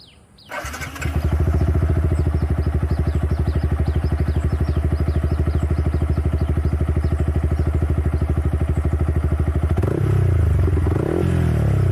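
A Yamaha YZF R15 motorcycle starts and settles into a loud, close, steady idle with a rhythmic engine pulse, then revs up briefly near the end.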